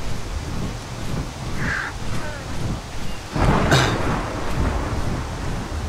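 Thunder during a storm in the survival game Ark Survival Evolved: a low rumbling crack swells midway over steady rain-like noise, with a faint chirp earlier.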